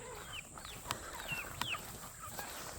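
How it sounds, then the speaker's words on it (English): Tiny bantam chickens on a homestead, kept alongside quail, clucking in soft, scattered calls with a couple of sharper chirps, fairly faint and close with no talking. "They're the smallest chickens known to earth."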